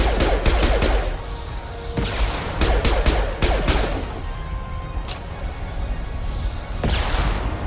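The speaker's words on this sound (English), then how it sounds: "Don't stand in front of me while I'm shooting then." Gunfire in the Mass Effect video game: loud, close shots in several bursts and single cracks spread over several seconds, with some booming impacts between them.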